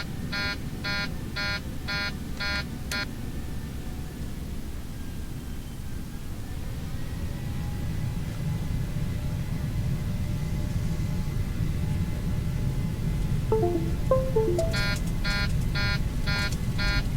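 A Boeing 737 taking off in a flight simulator game: a steady low engine rumble builds gradually beneath repeated electronic warning beeps, which sound in rapid bursts at the start and again near the end.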